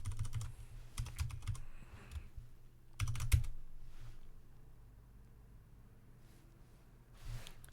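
A password typed on a computer keyboard, close quick bursts of key clicks with short pauses, ending in a single keystroke after a quiet gap.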